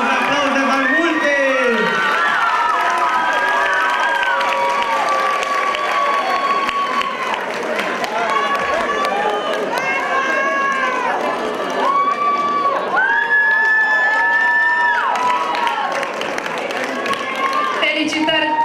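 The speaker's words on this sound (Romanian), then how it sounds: "Aplauze, aplauze mai multe!" Students clap and cheer at a high school freshman ball in a crowded hall, a loud continuous roar of applause with shrill whoops and shouted voices rising and falling throughout.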